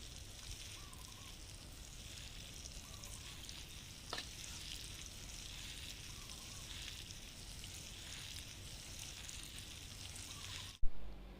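Water sprinkled over soil seeded with coriander and mulched with chopped coconut husk makes a steady, soft, close hiss, ending with a sharp click.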